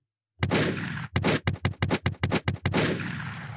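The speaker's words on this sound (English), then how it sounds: "let me get us some gunshots real quick" A rapid volley of gunshots, a long blast followed by about a dozen sharp cracks in quick rhythm, then a sustained roar of fire, loud and close.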